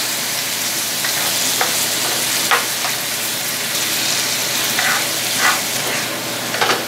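Food being stirred and mixed in a hot pan during meal prep, with a steady loud sizzle and frying hiss throughout and scattered scraping clicks of the utensil against the pan, no talking.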